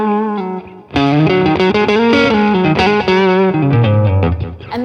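A loud electric guitar solo through an overdrive pedal, gritty and sustained, with quick bends and runs and a touch of modulation and reverb.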